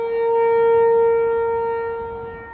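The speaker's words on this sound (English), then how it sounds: "that siren is loud and it is hard to miss" A tornado warning siren in Alabama wails very loudly in one steady, sustained tone that holds for the whole stretch and fades slightly toward the end, with no voices over it.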